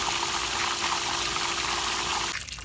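Hayward Pro Grid DE pool filter running on backwash, a steady loud rush of water with a constant pump hum that cuts off near the end.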